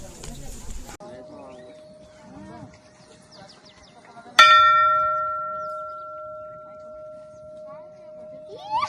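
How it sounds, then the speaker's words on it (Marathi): A temple bell at the Jejuri hilltop fort is struck once, loud and close, after voices talk. It rings on with a long, steady metallic hum that slowly fades. "वाजवा घंटा"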